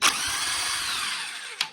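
A power tool whirs steadily up close while lug nuts come off the wheel of a BMW E46, with a sharp clack at the start and another near the end.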